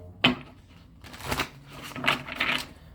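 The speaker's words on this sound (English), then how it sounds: "1 more shuffle." Tarot cards being shuffled by hand, with several quick bursts of riffling and card slaps in an irregular rhythm, close and clear with no talking.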